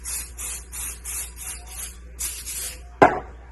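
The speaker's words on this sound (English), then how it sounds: "I have a little spray bottle of nail polish remover, and I'll spray my needles" A small spray bottle of nail polish remover spritzes embroidery needles to clean off gunk, giving a quick series of close, hissy pumps followed by a soft thud.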